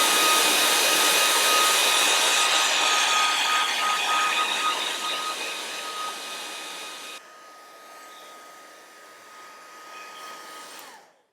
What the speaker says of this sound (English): I'm going to give that another quick blast dry with a hairdryer.